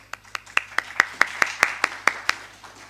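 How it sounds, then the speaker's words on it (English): Audience at a panel discussion on frugal innovation in Chennai gives a brief round of applause, heard as a dozen or so evenly spaced claps, close and clear with light room murmur. "I think that calls for a round of applause"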